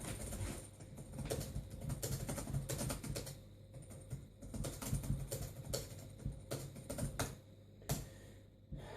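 Quick, uneven clacking of keys on a Compaq Armada 7770DMT laptop keyboard with an American layout, close and crisp bursts of typing with brief pauses between runs.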